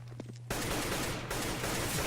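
Rapid gunfire from a Counter-Strike: Global Offensive competitive match bursts in after a short quiet lead-in and continues as dense, loud, sustained shooting for the rest of the clip.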